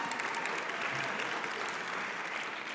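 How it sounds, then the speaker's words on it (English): A crowd claps steadily and warmly for a few seconds, a dense patter of many hands filling the room. "Give the newbies a round of applause."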